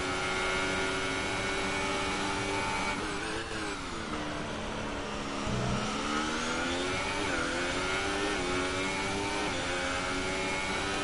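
Formula 1 race cars, a Haas and a Renault, scream along in a racing video game, engines droning at high pitch with gear shifts and a pitch swoop as they run close together.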